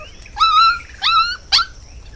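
In an animated story, a dog gives three high, whimpering yelps in quick succession over a faint low background, and no one speaks.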